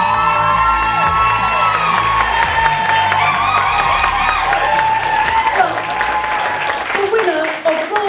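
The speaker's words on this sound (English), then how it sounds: "Give us applause." Awards-ceremony audience applauding and cheering steadily throughout, dense and loud, with a few whoops rising over the clapping and music playing underneath.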